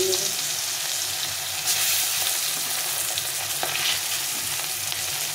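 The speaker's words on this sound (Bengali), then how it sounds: "এখন আমি এই লেজগুলো ভেজে নেব" Hilsa fish tails that have been scored down the middle fry in a pan with a dense, continuous sizzle and crackle, heard close and steady throughout.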